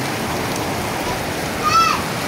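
Steady, dense rain hisses loudly throughout, with a brief high voice-like chirp near the end.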